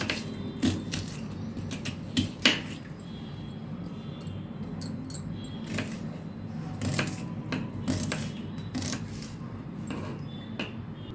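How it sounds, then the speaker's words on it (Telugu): A knife chops peeled brinjal into small pieces on a board, giving a run of light, irregular clicks and taps with scattered louder knocks over quiet kitchen background. "ఇలా పొట్టు తీసేసి చిన్న ముక్కలుగా కట్ చేసుకోవాలి."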